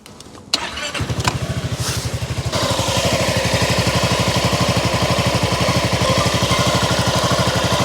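A Honda ADV350 scooter starts after a brief cranking and click, then settles into a steady, loud, close idle with an even rapid pulsing beat that continues unchanged to the end.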